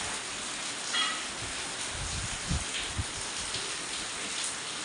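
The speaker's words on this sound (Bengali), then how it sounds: "যা বৃষ্টি হচ্ছে।" Heavy monsoon rain pours down in a steady, dense roar, with a few louder splashes and patters standing out against the constant wash.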